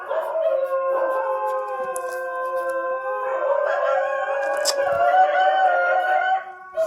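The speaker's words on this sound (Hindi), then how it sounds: "यार पीछे कितना कुत्ता शोर कर रहे हैं सब यार।" Several dogs outdoors howl together in long, sustained, wavering tones that overlap and swell for several seconds, fairly loud and near, with no speech over them.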